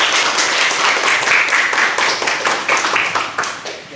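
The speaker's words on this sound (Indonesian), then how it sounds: "Tepuk tangan buat kita semua." A classroom full of people clapping together, steady, dense applause that carries on for several seconds before tapering off at the end.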